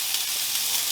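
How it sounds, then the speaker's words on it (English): Onions sizzle and fry steadily in a hot pan, a loud, continuous hiss with no pauses. "Not bad sizzle, not bad at all."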